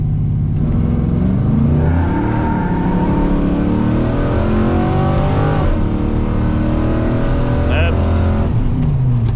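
A Ford OBS muscle truck launches hard from a stop toward 60 mph with its tires spinning, the engine roaring and climbing through gears in rising sweeps, loud and close throughout with brief shifts and wheelspin noise.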